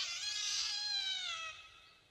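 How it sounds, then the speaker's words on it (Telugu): A cat gives one drawn-out, high meow that tapers off, close and clear against a quiet background. "మ్యావ్"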